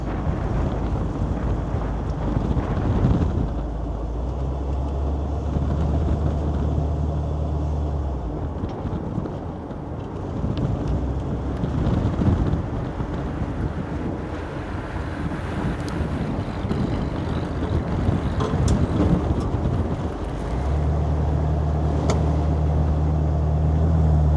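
A 1972 Ford Econoline Custom 200 pop-top camper van drives down the road with a steady low engine drone and strong wind rush, the engine note swelling and easing over time.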